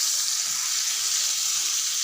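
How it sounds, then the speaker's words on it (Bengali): Spiced fish fries in a pan with a steady, close, even sizzling hiss, unbroken and without speech. "তখন আমরা মাছটাকে এপিট ওপিট করে মশলাটা করে ভেজে নেব"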